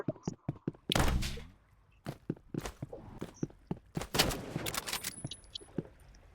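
Sniper rifle and gunfire in a multiplayer shooter video game, sharp separate shots and impacts spread across several seconds, mixed with footstep-like thuds and clatter at moderate level.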